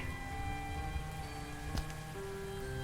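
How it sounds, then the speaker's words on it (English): Steady rain falling in Paris in the video game Gibbous, a constant close hiss of drops with faint tonal hum beneath and a brief brighter patter partway through, no voices. "Still Paris. Still in the rain."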